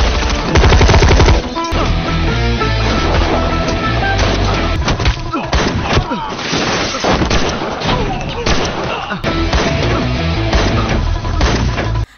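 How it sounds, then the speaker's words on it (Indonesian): Gunfire in a shootout scene from an Indian action film, set on a busy road: dense, loud bursts of automatic and single shots that rattle almost nonstop, mixed with booms and dramatic score. "terjadilah baku tembak yang membuat heboh para pengguna jalan"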